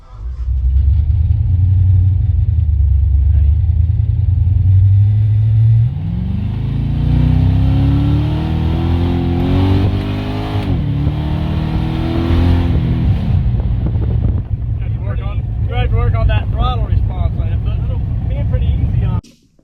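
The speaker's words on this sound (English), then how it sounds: "We've got the Chevelle back on the road again" A 1970 Chevelle fitted with Holley Sniper 2 fuel injection drives on the road, its engine droning loud and close, rising in pitch as it accelerates through gears with brief revs, talk audible over it near the end.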